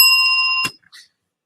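A single bright bell chime rings out with a sustained tone that cuts off abruptly, followed by a brief faint sound and then silence.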